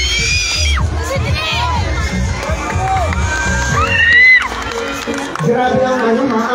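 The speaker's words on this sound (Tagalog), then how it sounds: "Grabe ang sigawan" At a barangay beauty pageant, a crowd shrieks, screams and cheers loudly, with high excited voices and whoops rising and falling, one especially loud burst near the middle, and a host's voice talking over the noise.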